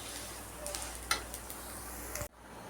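Dry vermicelli (semiya) roasting in a pan for semiya idli gives a low, steady sizzle with scattered stirring scrapes and small clicks, which cuts off abruptly near the end.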